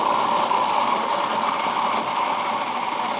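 Blender spinning a creamy mixture for a healthy Nanaimo bar, a steady high-pitched motor whir held evenly from start to finish, loud and close, with no voices.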